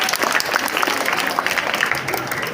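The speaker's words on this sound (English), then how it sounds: "Put your hands together for" Loud, dense applause from a debate audience, steady clapping throughout with a few faint voices mixed in.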